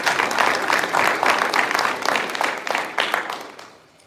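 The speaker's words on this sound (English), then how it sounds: "giving them all, Derrick and his staff, a big round of applause" An audience at an inaugural council meeting claps in a dense burst of applause, rising in pulses and then tapering off toward the end, close and fairly loud.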